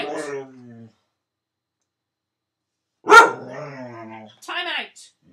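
A dog barks in short sharp bursts, one near the start and a louder pair toward the end, separated by silence.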